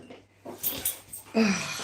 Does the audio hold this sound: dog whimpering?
yes